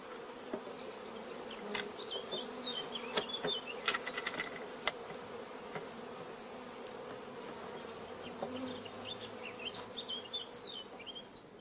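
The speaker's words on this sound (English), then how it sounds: "many young bees are emerging in the starter colony" Honeybees fill a starter colony hive with a steady, close buzzing hum. Scattered sharper buzzes from single bees pass nearby, and there is no speech.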